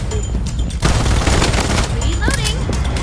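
Rapid, close gunfire in the online shooter Bloodstrike, with dense volleys of shots rattling throughout the clip while players talk excitedly over the action.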